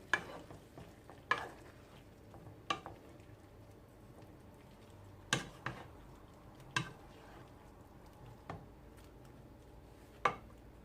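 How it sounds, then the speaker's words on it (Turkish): Green beans with onions and tomatoes cook in an open pot with a faint, low sizzle, broken every second or so by sharp spoon knocks and scrapes against the pot. "Biraz da kapağı açık kavrulacak."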